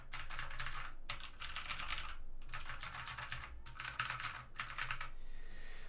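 Bursts of fast, clicky typing on a Modecom Volcano RGB Lanparty mechanical keyboard with Outemu Blue switches, five close, loud runs of crisp keystrokes separated by short pauses, no voices.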